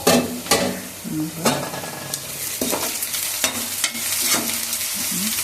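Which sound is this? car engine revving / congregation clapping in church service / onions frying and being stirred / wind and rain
onions frying and being stirred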